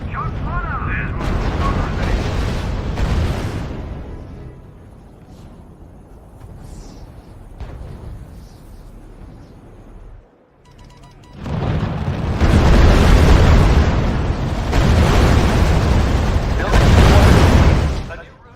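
Gunfire and explosions from the World War II strategy game R.U.S.E. come in two loud sustained bursts of booming battle noise with a quieter stretch between, and voices speak over the action.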